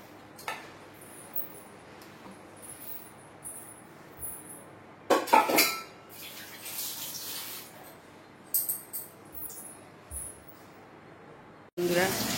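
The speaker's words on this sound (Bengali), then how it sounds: "চলো মাছটা ধুয়ে নিই।" Prawns are rinsed in a metal pot, with scattered splashes, clinks and scraping bursts of water and utensil against the pot, quiet between louder rattles, and a sharp clatter at the end.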